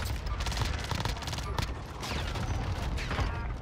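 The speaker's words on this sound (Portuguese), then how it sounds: "Tem tiro desse cara aí." Rapid gunfire bursts from the video game Warzone rattle in close succession amid game effects, moderately loud and continuous.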